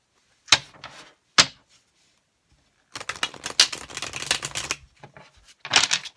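Tarot cards are shuffled and pulled, heard as a couple of crisp snaps followed by a longer close-up flurry of riffling and flicking cards, then another quick burst.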